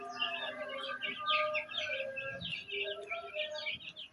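Chicks in an incubator chirp in rapid, high overlapping peeps, a busy continuous chorus heard close but at moderate volume.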